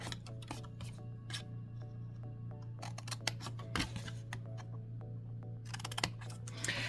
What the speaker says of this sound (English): I'm going to cut these squares out completely. So cut the squares out.